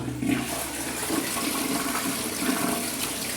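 A toilet flushes in a bathroom with a clogged drain, water rushing steadily and loudly through the bowl for the whole stretch, with gurgling swirls and no talking.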